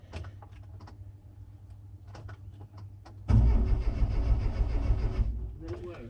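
An R53 Mini engine struggling to start with a fuel fault: a faint cranking tick, then the engine catches and fires once with a loud rough rumble for about two seconds before dying, while people talk nearby.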